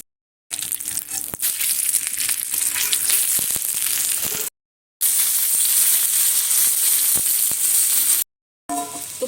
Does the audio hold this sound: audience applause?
no